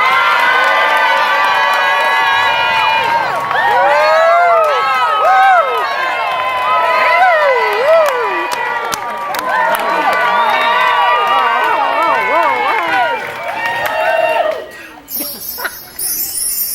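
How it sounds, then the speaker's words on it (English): Crowd cheering during a race, loud sustained shouting and whooping voices with rising excited cries, fading near the end into a brief noisy burst. "Listen to that crowd."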